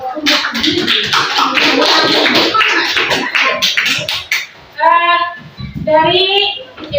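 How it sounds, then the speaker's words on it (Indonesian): A classroom of children claps for the first group, a dense burst of rapid clapping that lasts a few seconds. Children's voices and chatter follow as the applause fades. "Tepuk tangan dulu untuk kelompok 1."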